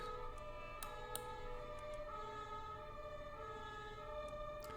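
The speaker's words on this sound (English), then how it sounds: "Sorry for the ambulance in the background." An ambulance siren passing outside a window, a faint, steady wailing tone heard through the room with a few light clicks and no voices.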